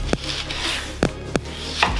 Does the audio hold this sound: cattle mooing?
no